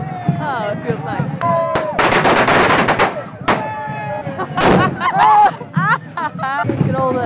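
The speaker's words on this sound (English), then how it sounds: "My kid's got earmuffs on to block the sound of the fireworks." Fireworks at Lewes Bonfire Night crack and bang in loud, rapid bursts close by, with dense crackling volleys and whistling streaks over a crowd; people talk and shout throughout.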